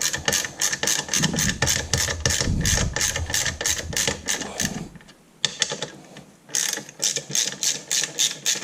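A ratchet wrench clicks rapidly while 12mm bolts are loosened from the exhaust bracket of a Royal Enfield Interceptor, loud close bursts of ratcheting with a brief pause before more clicking resumes.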